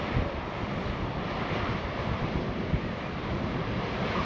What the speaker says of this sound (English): It's very windy, but I do have my wind buffer on the camera.